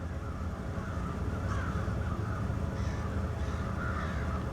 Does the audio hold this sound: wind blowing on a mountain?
no